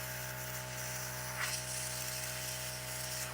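An airbrush sprays white paint over a black basecoat on a Warhammer miniature, giving a steady close hiss that runs unbroken throughout over a constant low electrical hum.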